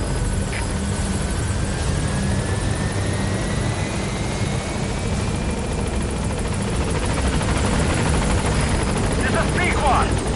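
The Pequod helicopter in a video game hovers in toward a landing zone, a loud continuous rotor drone and engine whine filling the space, with radio chatter underneath.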